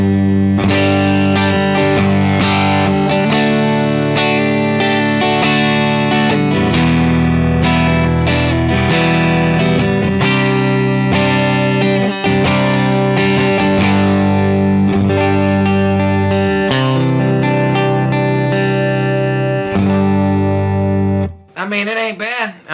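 A Telecaster-style guitar built into a Stratocaster body, played on the middle pickup position through distortion, strums and picks chords and riffs continuously and loudly, ending with a brief bright squeal.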